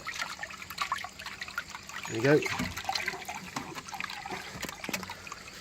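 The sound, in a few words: water draining while purging koi pond plant filter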